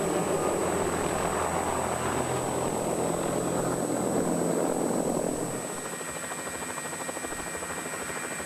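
A helicopter's rotor thrums steadily and loudly for several seconds over the 1999 World Cup downhill ski race at Wengen, then the sound drops a little and continues as a fainter, even drone.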